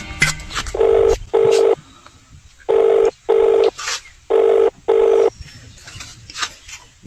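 Telephone keypad dialing: six loud, evenly paced DTMF tones in three pairs, separated by short pauses, with faint background noise between them.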